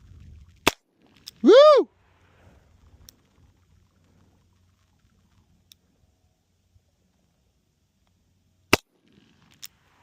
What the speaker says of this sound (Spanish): Creo que ya son los 6 tiros ahí.